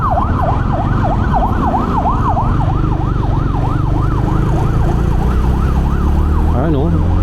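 A wailing emergency vehicle siren sweeps up and down steadily on the road, loud and continuous over a low rumble of traffic and engine noise, shifting to a faster yelp near the end.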